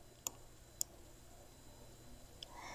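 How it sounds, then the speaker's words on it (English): Three sharp, faint clicks of a computer mouse used in Excel: two close together, then a single one after a pause, against a quiet room hiss. "let's click on pivot table"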